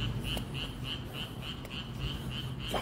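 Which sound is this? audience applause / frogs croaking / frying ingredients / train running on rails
frogs croaking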